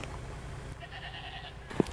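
Sheep bleat once, short and close, at an ancient Lycian ruin site in Patara, Turkey, over a faint outdoor background with distant higher calls.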